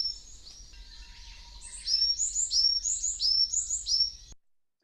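Several birds sing in a natural ecosystem soundscape, a series of bright repeated chirping phrases that grow louder and busier midway, over a low background rumble, then stop abruptly.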